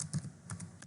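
Quick clicks of computer keyboard keys being typed while entering JavaScript in a browser console, a short burst of about five light taps close to the microphone with no voice.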